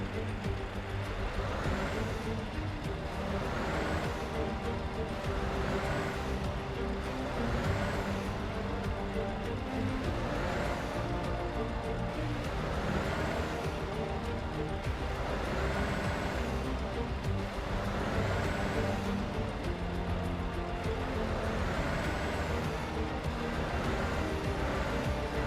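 A Scania S730 truck engine in Euro Truck Simulator 2 revs steadily, a loud continuous diesel drone rising and falling in repeated surges for the whole stretch, with no talking over it.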